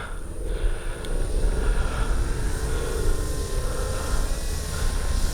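A steady, loud propeller-engine drone holds at constant pitch throughout as an RC model F4U Corsair warplane takes off near the ground, with no talking.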